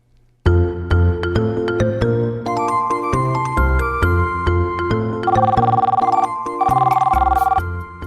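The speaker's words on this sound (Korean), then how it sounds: "이재훈 씨가 식당에 전화를 합니다" A phone ringing while calling a restaurant for a reservation: a clear electronic ringtone plays a repeating chiming melody of bright tones, loud and close, with no voices.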